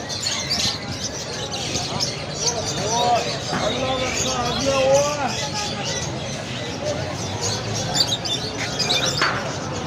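Caged birds, including a parrot, chirp and tweet at shops in a large bird and pet market in Pakistan, small calls mixed into a busy crowd hubbub as someone talks over them.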